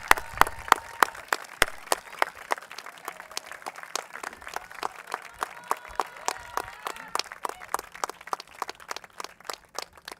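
An audience at a 2022 Brewster Academy commencement applauds award winner Lila Glanville: dense, sustained crowd clapping for about ten seconds, with sharp individual claps standing out near the front.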